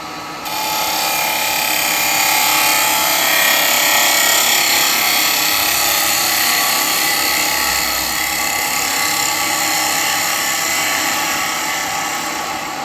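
Carbide chisel cutting an elm burr on a wood lathe gives a loud, steady whirring and scraping roar that holds almost unbroken for the whole stretch, with no voices over it.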